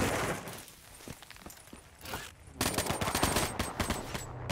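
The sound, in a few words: gunfire in the video game Call of Duty: Black Ops 3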